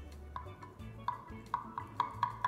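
A wet knife scores cuts into soft coconut fudge in a pan, with a series of light, evenly spaced ringing taps against the pan, close and quiet, without voices.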